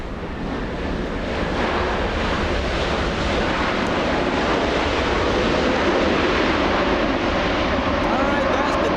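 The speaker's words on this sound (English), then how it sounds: "late touchdown there by Japan Airlines" Japan Airlines airliner landing at LAX, a loud, steady broadband roar of jet engines and wind rushing across the microphone, continuous throughout at close range.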